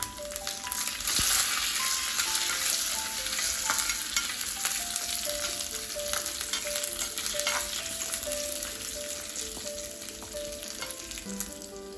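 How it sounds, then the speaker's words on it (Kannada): Curry leaves crackle and sizzle in hot oil for a Mangalore-style mango curry after the gas is switched off, with a steady busy frying hiss and sharp pops, close and moderately quiet, no talking. "ಈಗ ಗ್ಯಾಸನ್ನು ಆಫ್ ಮಾಡಿ ಕರಿಬೇವಿನ ಸೊಪ್ಪನ್ನು ಇದಕ್ಕೆ ಹಾಕಿ."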